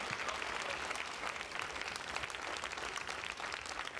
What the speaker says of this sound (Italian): Patti Pravo, un applauso!